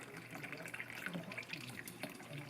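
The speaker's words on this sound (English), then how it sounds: "I've been running some hot water through this here." Hot water running through an MSI Coreliquid 360R AIO water cooler, poured into a funnel and draining out of the water block as a steady, soft trickle and splash throughout.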